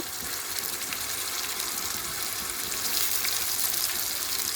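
Onion paste frying in a pan over a gas cylinder stove, a steady close sizzle that runs unbroken and fairly loud throughout, with no talking.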